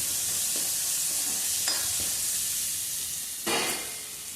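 Chili powder is stirred into hot oil in a pan, giving a constant sizzling hiss with a few scraping stir strokes and one louder flare near the end.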